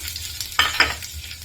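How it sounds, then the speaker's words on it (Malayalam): Oil sizzles steadily with a couple of sharp scraping stirs as onions fry in a pan. "ഉള്ളി വറുത്തെടുക്കാം."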